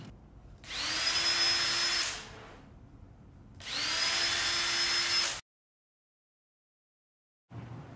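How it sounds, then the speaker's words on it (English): A power drill whines at high speed drilling holes in wood, in two bursts of about one and a half seconds each, separated by pauses, then briefly starts again. "my next step is obviously drilling out these holes I've marked"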